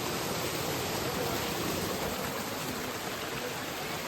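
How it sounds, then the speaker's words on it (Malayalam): Steady rushing water of a spring-fed forest stream flows without pause, a dense broadband wash like a small cascade, constant in level throughout. "ഇവിടുന്നാണ് ഇതിന്റെ വെള്ളം ഒലിച്ചു വരുന്നത്"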